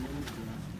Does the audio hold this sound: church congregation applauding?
no